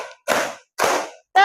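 Classroom of students clapping together in a counted ice-breaker game, three sharp unison claps evenly spaced about half a second apart, loud and close, with a brief voice at the start and end.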